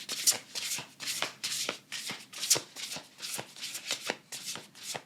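A Shaman's Dream Oracle card deck is shuffled by hand in a quick, even rhythm of riffling bursts, close and clear, with no talking.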